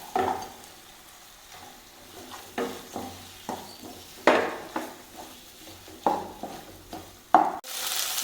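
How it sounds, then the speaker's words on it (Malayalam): Onions sauté with ginger garlic paste in a pan for beef biryani, with a soft sizzle broken by repeated scraping strokes of a spatula against the metal, each stir rising and fading. "നമ്മളിതിലേക്ക് നമ്മൾ എടുത്തതിൻ്റെ ബാക്കി സവാള ഇട്ട് കൊടുക്കുന്നു."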